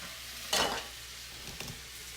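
Chicken thighs frying in a pan for a keto mushroom garlic dish, a soft steady sizzle with a louder burst of spatter and a small clink as the pieces are moved, no voices.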